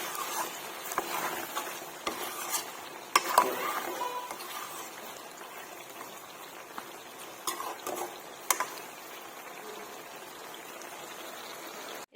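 Meat in a pan with a little water added after spices, stirred with a spoon: a soft, quiet simmering sizzle with occasional scraping and clinking strokes of the utensil.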